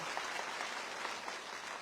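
An audience at a Valmiki Jayanti gathering applauds an Olympic gold medalist, a short stretch of dense, even clapping from a sizable crowd.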